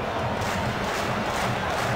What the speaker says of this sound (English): Crowd is clapping.